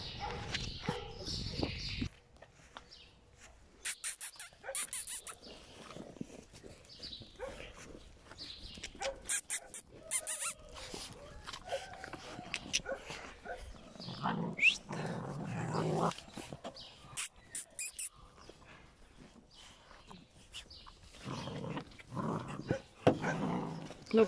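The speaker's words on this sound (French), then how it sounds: "Donc tous les bébés, ce sont les bébés de Singer." Eight-week-old puppies and their mother dog make a busy mix of small yips, whimpers, growls and scuffling play sounds close by, shifting constantly with brief quieter gaps.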